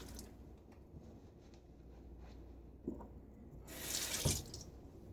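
Water from a tap runs into a sink while a razor is rinsed during a shave, a faint hiss that swells into a brief louder splash near the end.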